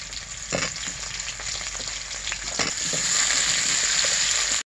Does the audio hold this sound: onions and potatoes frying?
yes